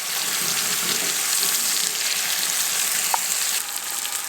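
A burger fries on a hot wood stove inside a winter tent, giving a continuous loud crackling sizzle throughout with one small pop, and no voices.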